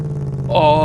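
A supercharged car engine idles in the BeamNG driving game, a steady low rumble that rises into a brighter whine partway through the brief moment, close and loud.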